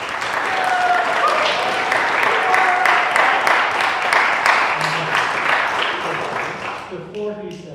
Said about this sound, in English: Can you please give a big round of applause for Mr. Lee Kesselman conducting the program.